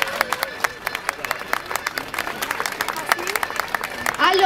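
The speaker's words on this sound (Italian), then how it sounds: "Io gli farei un grande applauso." Audience clapping at an outdoor festival for a children's dance group, a scattered, uneven patter of claps with crowd murmur and a voice or cheer rising near the end.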